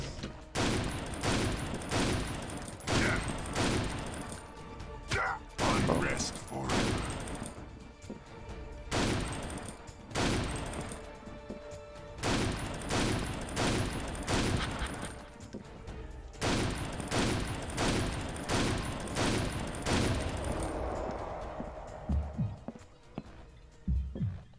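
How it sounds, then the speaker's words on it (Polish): Bursts of fireworks in the video game Painkiller Overdose, rapid crackling volleys in clustered waves that pause and resume across the stretch, fairly loud and heard alone. "Fajerwerki!"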